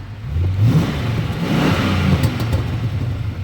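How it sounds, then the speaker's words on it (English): A 1996 Chevy Impala SS LT1 engine revs up through the exhaust, a deep rumbling roar that rises and falls in a couple of surges, loud and close, with no talking. "I'm gonna go ahead and hit the exhaust for you so that way you guys could like hear something"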